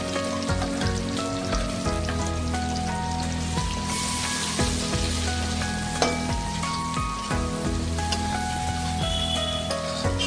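Finely chopped onion frying in a pan with asafoetida for stuffed bitter gourd, a steady dense sizzle and crackle running throughout at close range, with background music or tonal hum underneath.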